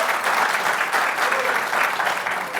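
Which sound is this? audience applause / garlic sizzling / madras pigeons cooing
audience applause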